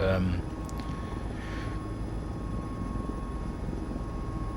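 A Mil Mi-17 V-5 helicopter in Microsoft Flight Simulator gives a steady, loud engine and rotor drone with a high whine on top, and a few brief clicks near the start.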